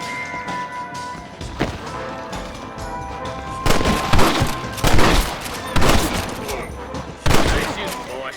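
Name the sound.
gunfire in Red Dead Redemption video game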